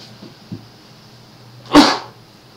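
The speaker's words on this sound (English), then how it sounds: "Oh, I'm gonna sneeze." A single sharp, close human sneeze bursts out loudly after a few soft breaths in an otherwise quiet room.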